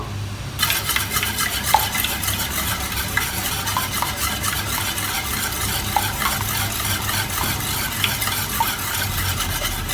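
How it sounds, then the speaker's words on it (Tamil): Brownie batter being stirred in a bowl: a steady, close scraping and swishing texture that runs nearly unbroken, with occasional light clicks of the utensil against the bowl and no talking. "நல்லா வந்து மிக்ஸ் பண்ணிக்க போகிறோம்"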